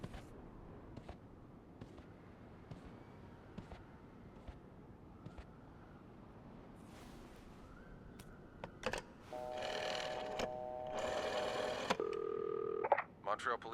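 A telephone number is dialed on a keypad phone. After quiet rustling and small clicks, a quick run of electronic dialing tones sounds up close, each beep short and distinct.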